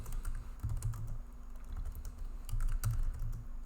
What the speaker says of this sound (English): If I hit Control P, start typing the name of a file I want